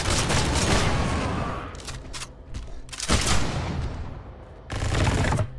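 Weapon fire from the Project Stray video game, bursts of loud, close gunshots in rapid volleys that come in several separate clusters with short quieter gaps between them.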